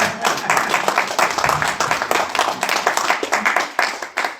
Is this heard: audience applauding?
yes